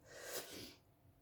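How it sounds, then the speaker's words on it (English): A single wet, messy human sneeze, a sharp breathy burst that quickly fades, close up and fairly quiet with no talking. "I just started to kind of get used to messy sneezes"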